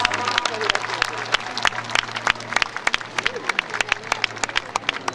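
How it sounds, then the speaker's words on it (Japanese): Crowd applauding at an aerobatics grand prix after a pilot's display, with scattered claps over a steady low hum, under a background voice. "大きな拍手をお願いいたします"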